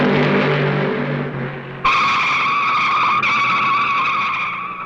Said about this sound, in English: Fred Lorenzen loops down the backstretch.